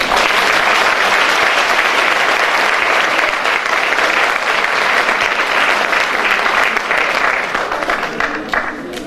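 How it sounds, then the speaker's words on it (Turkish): Audience at a cemevi concert applauding a Turkish folk music choir, a loud, sustained wash of many hands clapping that fades slightly at the close. "şu güzel sesleri, şu güzel gönülleri bir alkışlayalım."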